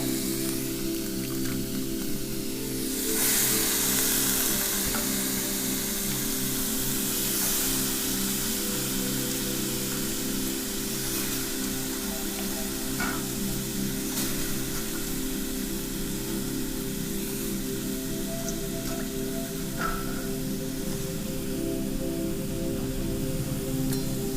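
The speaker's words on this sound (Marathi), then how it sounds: "मस्त पाणी निथरलं म्हणून याच्यात टाकायचं पाकाचा आवाज येतो आणि याच्यात परतून घ्यायच्या" Vegetables for a dingri bhaji sizzle as they fry in a pan, a steady broadband hiss that swells louder after a few seconds and then holds, with faint clicks and no voices.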